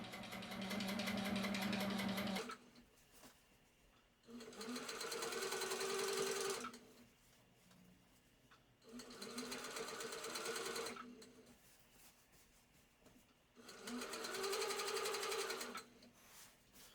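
A sit-down sewing machine stitches in the ditch on a large quilt, running in four steady bursts of a few seconds each with short quiet pauses between, close and clear with no talking.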